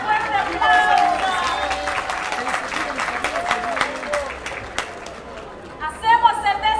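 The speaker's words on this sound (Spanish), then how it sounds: "¡Fuerte aplauso!" Crowd applause at a national band battle contest, a broad wash of clapping and cheering with a loud announcer voice and music-like tones over it, swelling again near the end.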